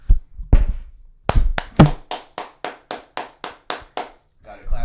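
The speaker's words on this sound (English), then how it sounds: "Gotta clap it up for Mr." Loud, close hand claps ring out: a few irregular, heavy claps at first, then a steady run of about ten evenly spaced sharp claps, with a voice briefly heard at the end.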